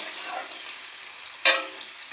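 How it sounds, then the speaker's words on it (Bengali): Thinly sliced potatoes fry in a pan of oil with a steady soft sizzle, and a brief louder crackling burst comes midway, with no voices. "একটু আলু দেব, সামান্য আলু ভেজে নিচ্ছি"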